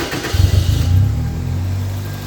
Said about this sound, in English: Vehicle now running.